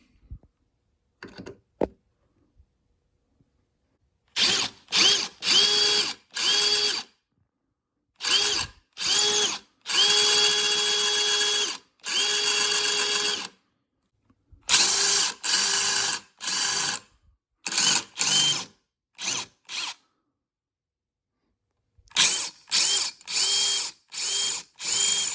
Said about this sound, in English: I got the rivets drilled out